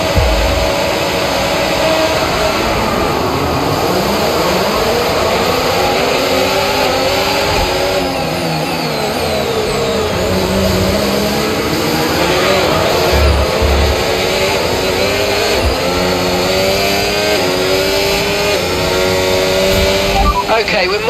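A Formula 1 race car engine in the F1 25 game screams and shifts pitch up and down through gears during a race restart, loud and continuous, with a voice talking over it.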